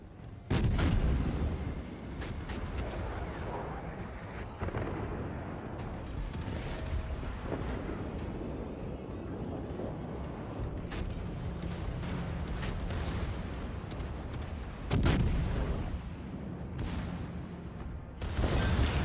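Naval artillery fires in the World of Warships game as repeated deep booms and salvos over a constant low rumble of engine and sea noise, with heavier blasts near the start, middle and end.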